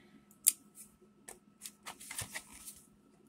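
Scissors snip through the foil wrapper of a Pokémon card pack, a sharp first cut followed by a run of quieter crinkling snips and rustles, close and alone.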